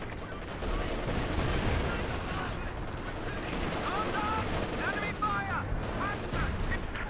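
Battle din from a Company of Heroes 2 match, with dense rattling gunfire, booms and clatter in a steady wall of noise, a machine gun firing from a building, and a faint voice beneath it.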